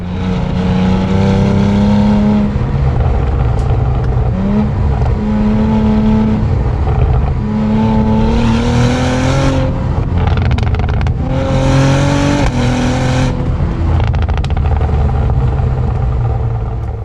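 A 2022 Cadillac CT4-V Blackwing sedan being driven, its engine loud and close, rising and falling in pitch through repeated revs and gear changes, with no one speaking.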